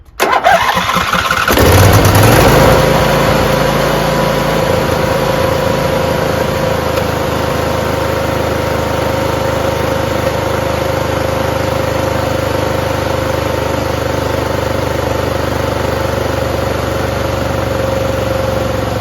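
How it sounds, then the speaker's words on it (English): A Craftsman PYT9000 lawn tractor's twin-cylinder engine starts with a loud burst, then settles into a steady, continuous idle running on both cylinders, close and alone. "Idle right there. Both cylinders are running."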